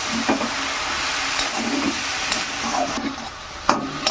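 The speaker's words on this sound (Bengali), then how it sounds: "মশলার সঙ্গে মিশিয়ে নেব এই শাক রান্না করতে বেশি সময় লাগে না" Fresh chickpea greens are stirred with spices in a hot pan, giving a continuous close sizzle punctuated by several short scrapes and knocks of the spoon, with no voices.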